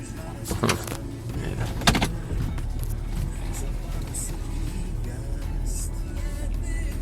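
A DJ's loaded car with a small trailer pulling away from a hall, with a low steady engine rumble, a couple of clunks early on, and someone talking over it.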